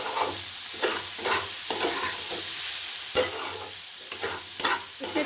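Raw papaya frying in a pan as turmeric powder is stirred in, a constant sizzle broken by repeated scraping strokes of a spoon, close and clear, with no voices.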